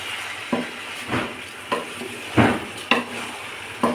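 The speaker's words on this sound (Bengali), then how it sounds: "এখন আমি ভালো করে চালগুলো নেড়ে চেড়ে ভাজবো। আমি চালগুলো ভালোভাবে ভেজে নিচ্ছি।" Rice for chicken pulao is stir-fried in a pan, a soft sizzle broken by repeated scraping strokes of a spatula about every half second, close and clear with no talking.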